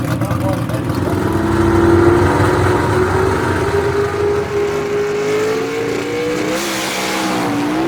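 Drag race car with a 292 cubic inch motor launching at Shady Side Dragway, a loud steady engine whine rising in pitch across the run, with a commentator talking over it throughout.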